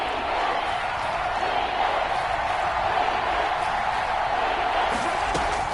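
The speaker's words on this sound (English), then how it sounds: "the crowd getting into it as we come up on a big 3rd down" A stadium crowd in an American football video game builds a steady, dense roar of cheering ahead of a big third down, constant and far-off in tone, without breaks.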